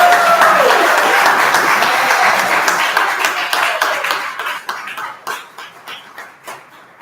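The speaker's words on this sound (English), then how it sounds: "let's give it a round of applause to these speakers" Audience at a community conference applauds its speakers, loud, dense clapping that holds steady and then thins into scattered claps before fading out.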